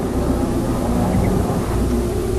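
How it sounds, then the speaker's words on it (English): A Fiat 500 petrol engine warming up on a drive, its steady low drone and light tinkling rattle running continuously and fairly loud throughout, with no talking. "Still got that tinkling noise."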